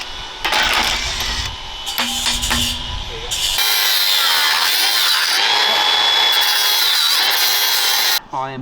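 A high impact screwdriver works loose fittings on German Wespe armour plate in a workshop: a few sharp metallic strikes and scrapes, then a sustained loud grinding, rasping burst that cuts off abruptly.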